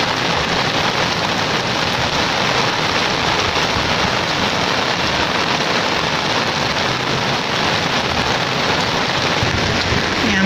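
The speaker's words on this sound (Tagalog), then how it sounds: "So, okay lang po na umulan kasi talagang gusto kong umulan" Steady rain falls heavily and evenly over a garden of succulents and hanging plants in hot weather, a constant dense hiss with no talking and no breaks.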